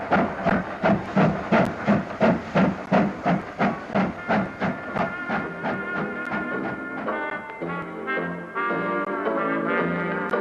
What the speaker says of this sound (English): you'd hear the engine getting up ahead of steam and the carriage couplings jerking alive